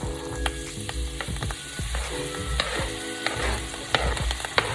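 Curry sizzling and frying in a pan with thyme and seasoning stirred in, a loud continuous crackle broken by scraping stir strokes, no talk.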